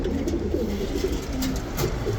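Silver, aluminium and benji pigeons in a loft coo steadily in low, throaty murmurs, several birds overlapping against a constant noisy background with no talking.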